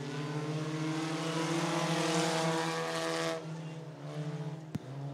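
Engines of junior-class race cars at Cottage Grove Speedway roar loudly and steadily in a continuous, harmonic drone, then ease off slightly near the end, with a brief sharp knock just before it finishes.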